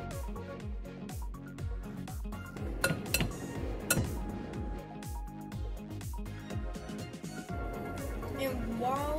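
Keto bagel dough of almond flour and eggs is mixed in a bowl, giving a steady run of soft clinks and scraping close by, under a person's talk.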